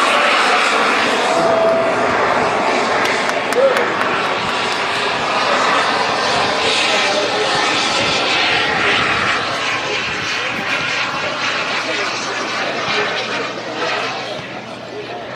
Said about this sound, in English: This jet engine can generate over 30 pounds of thrust to take this aircraft directly vertical